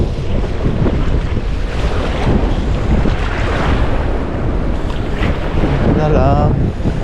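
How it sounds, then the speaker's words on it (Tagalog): Strong sea waves and gusting wind surround a small fishing boat out on open water, a loud, constant rushing roar with heavy wind buffeting on the microphone throughout. "Grabe ang lakas ng alon."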